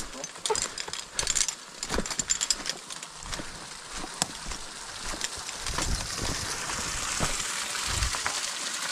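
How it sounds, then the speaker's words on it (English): Waterfall inside a cave, a steady broadband rush of falling water that builds and stays continuous in the second half, with scattered knocks and movement earlier on. "Oh, that's the waterfall I'm just talking about."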